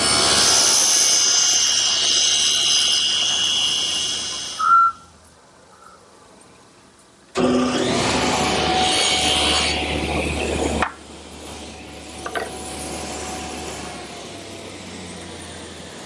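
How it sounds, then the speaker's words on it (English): A table saw with its blade tilted at 40 degrees ripping a cove profile in a pine board, loud bursts of whining saw noise that stop and start again, separated by quieter pauses. "I've just set my saw at a 40-degree angle and ripped this piece of cove through."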